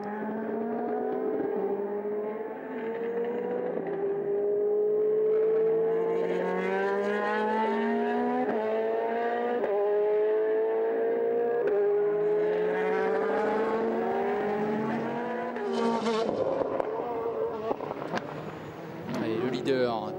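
GT race cars racing at the Magny-Cours circuit in the International GT Open 2011, a steady engine roar rising and falling through gear changes as cars pass, under constant French commentary.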